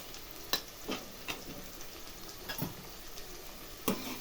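Curry with turmeric stirred in a frying pan, a quiet sizzle under a handful of sharp spoon clinks and scrapes against the pan at irregular intervals, no voices.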